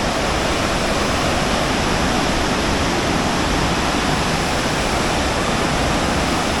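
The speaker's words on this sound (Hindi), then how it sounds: "भागीरथी नदी बह रही है।" Bhagirathi river in Uttarkashi rushing steadily, a loud continuous roar of turbulent water close by, unbroken throughout with no voices.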